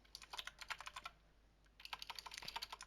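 Typing on a computer keyboard, quiet rapid key clicks in two short bursts separated by a brief pause, close by and alone.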